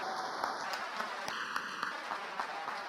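A brief burst of scattered applause and clapping from a church congregation, dense and steady for a few seconds.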